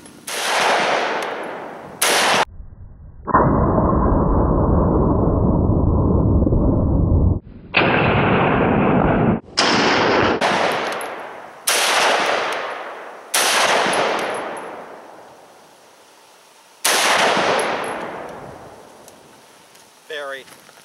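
A Springfield Armory SOCOM 16 rifle in .308 fires outdoors, giving loud, sharp single reports with long decaying echoes, spaced a second or two apart. There are also a few sustained blasts of loud noise. No speech.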